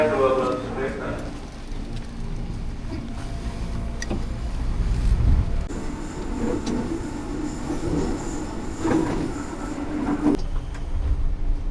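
A 12-car commuter train rumbles and clatters along near Bogor, Indonesia, with metallic wheel squeal and a high whine in the middle, while faint voices come and go.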